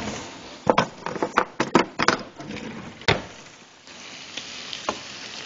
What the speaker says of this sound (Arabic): هجرب حركها شوي صغيرة بس لغلفها بالزبدة والزيت